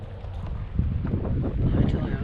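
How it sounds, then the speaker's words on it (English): Strong wind buffets the microphone on open water during a kayak trip, giving a continuous low rumble with gusty surges and faint splashing from the hull. "That's how strong the wind and current is."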